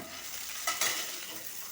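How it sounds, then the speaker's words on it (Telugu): Green chillies frying and being stirred in a pan, a steady close sizzle with a couple of brief louder crackles of stirring, no talk. "కొంచెం పచ్చిమిర్చి వేగనిస్తాను"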